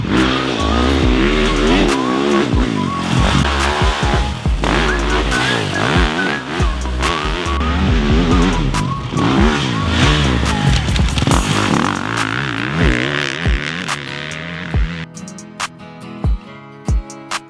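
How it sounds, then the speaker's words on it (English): A 2025 Beta 450RC off-road motorcycle roars loudly and continuously while being ridden, its engine revving up and down through repeated throttle bursts and gear changes, close and alone, ending with a few sharp blips near the end. "today we're getting a chance to ride the brand new 2025 Beta 450RC"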